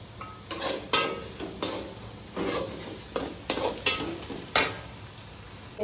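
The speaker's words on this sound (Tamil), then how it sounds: "பூண்டும் போட்டு நல்லபடியாக வதக்கிக்கோங்க. வெங்காயம் ஒரு 5 நிமிஷம் நல்லா வதங்கணும்." Onion and garlic sautéing in a pan for mango rice, with bursts of sizzle and spoon-stirring scrapes coming in irregular strokes, fairly close and loud, with no voices.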